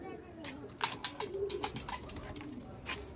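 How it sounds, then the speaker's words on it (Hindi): Pigeon cooing on a household rooftop, a few soft low coos mixed with other bird calls and rustling, fairly near and moderately quiet, while people talk nearby. "ये लो जी एक कबूतर"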